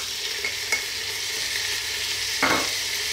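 Beef and spices frying in a pan for Arabic kabsa, with onions tipped in; a steady close sizzle runs throughout, broken by a couple of stirring clatters and a brief louder hiss near the end.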